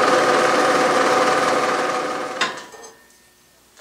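A Bridgeport milling machine takes a light finishing pass on steel stock for tee nuts. A steady, loud mechanical whir runs, then winds down and stops partway through, leaving near silence.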